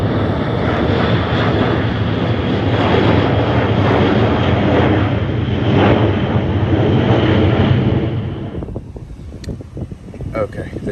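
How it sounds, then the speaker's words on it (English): Two jet aircraft roar loudly overhead, a broad, heavy, continuous rumble with wind buffeting that cuts off sharply near the end, leaving quieter background sounds. "the Jets, there's two of them that came over, and they're really loud"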